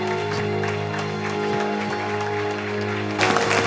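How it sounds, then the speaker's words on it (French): An audience at a French-language church leadership session applauds in welcome, a sustained wash of clapping with faint crowd murmur underneath, swelling louder near the end. "Donnez une bonne main d'acclamation"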